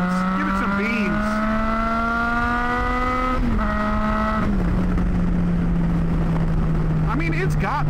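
Triumph Tiger 660 sport-touring motorcycle pulling away with a steady engine tone that rises, dips at a gear change, then holds a long even drone, close and loud with a faint voice over it.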